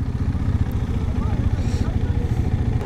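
A motorcycle engine idles in neutral on a hill road in Ladakh, a steady low rumbling throb with even pulses, loud and close, under faint outdoor noise.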